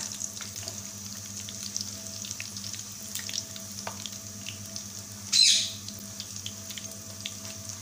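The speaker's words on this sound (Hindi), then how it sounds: "और इसको गोल्डन फ्राई करना है दोनों साइड से कि ये अच्छे से फ्राई हो जाए।" Chicken macaroni rolls frying golden in hot oil, a quiet steady sizzle with faint crackles and one brief louder splash partway through.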